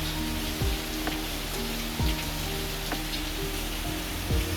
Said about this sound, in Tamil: இப்போ இந்த மழை வந்திருக்கு